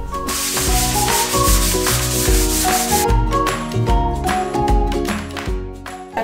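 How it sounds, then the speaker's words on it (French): Sanding a bedroom wall produces a loud, continuous scratchy rasp across the whole stretch, with rhythmic back-and-forth strokes and a steady hum underneath, close to the listener. "Première étape, on ponce le mur."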